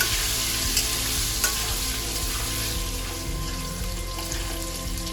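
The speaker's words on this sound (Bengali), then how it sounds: "এবার আলুগুলোকেও আমি লাল লাল করে ভেজে নেব।" Potatoes fry in hot oil until reddish for potol chingri, a loud dense crackling sizzle that holds steady throughout, with a few small sharp pops near the start.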